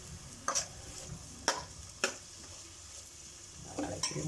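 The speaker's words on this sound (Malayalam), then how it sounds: "ഈ ഉള്ളി സവാള നല്ലോണം വാടി വരും" Onions sautéing in a pan for a duck curry, a steady soft sizzle broken by a few sharp clicks and scrapes of a spoon against the pan, close by with no talk.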